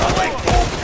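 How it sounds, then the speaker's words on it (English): Gunfire in Call of Duty: Modern Warfare III comes as a quick dense burst of shots, loud and close, within a brief moment of battle noise. "We need suppressive fire here now."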